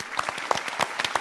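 A studio audience on the 2022 Vietnamese TV game show Tiền Khéo Tiền Khôn claps for departing contestants. The applause is close, steady and lively, with sharp individual claps standing out from the crowd.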